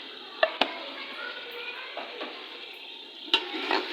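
Whole Kashmiri red chilies and spices fry in a pot with a steady soft sizzle, broken by a few sharp clinks and scrapes of a utensil against the metal.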